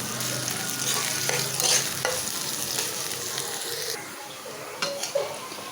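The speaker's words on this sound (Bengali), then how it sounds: "আবার একটু পেঁয়াজ ভেজে নিতেছি" Onions frying in a pan, a steady close sizzle with scraping stirring strokes throughout, swelling briefly louder midway and again near the end.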